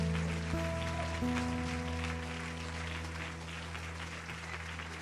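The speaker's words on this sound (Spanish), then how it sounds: "Dale un fuerte aplauso al Señor." A church congregation applauding during worship: a sustained patter of many hands, fairly soft and distant, with a held organ or keyboard chord underneath.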